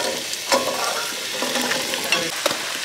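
Squash and zucchini fry in olive oil in a pan, a dense, even sizzle close up with light clicks from stirring now and then.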